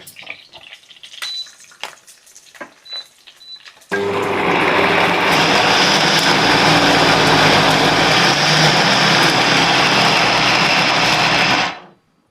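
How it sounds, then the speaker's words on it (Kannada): A kitchen mixer grinder grinding spices for brinjal curry starts abruptly after some light clatter, then runs as a loud, steady high-pitched whir for about eight seconds before cutting off. "ಒಂದ್ಸಲ ಇದನ್ನ ಗ್ರೈಂಡ್ ಮಾಡ್ಕೋಬೇಕಂತೆ, ಆಮೇಲೆ ಎಳ್ಳು ಸೇರಿಸ್ಕೊಳ್ತೀವಿ"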